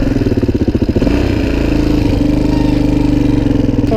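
Suzuki DRZ400e motorcycle engine running steadily while being ridden, a loud, close, continuous thumping drone with a pulsing low rhythm that shifts slightly as it pulls, no talking.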